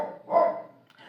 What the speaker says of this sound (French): il sait qu'il aboie